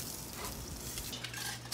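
Italian sausages fry on a grill with a continuous soft sizzle and crackle, broken by faint clinks of a metal utensil as they are turned. No one speaks.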